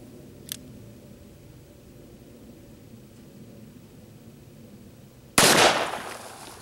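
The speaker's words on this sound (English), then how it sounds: "So we'll go ahead and we'll shoot one of these 3-liters for you folks." A Smith & Wesson 629 .44 Magnum revolver fires at a 3-liter bottle: one very loud, close shot cracks out after several seconds of near-quiet, preceded only by a faint click, and its echo trails away.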